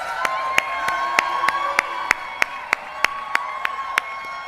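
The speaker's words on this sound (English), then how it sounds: "Give him a big round of applause." A crowd at a political campaign event claps in sharp, evenly spaced unison beats while cheering voices ring out underneath, the rhythmic claps cutting through at a steady pace.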